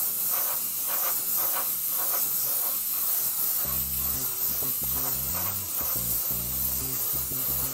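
Airbrush spraying white pearl Createx paint onto an RC car body, producing a continuous, close, steady hiss that persists without break; a low rumbling hum joins partway through, and nobody speaks.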